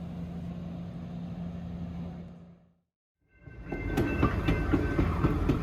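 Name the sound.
Alaska Railroad train departing Talkeetna, rails clacking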